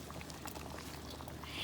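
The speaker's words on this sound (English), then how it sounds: "now we're going to just add those collards right in there" Collard greens dropped into a pot of turkey backs at a rapid boil give a steady watery bubbling and hiss, continuous and close, swelling slightly at the end.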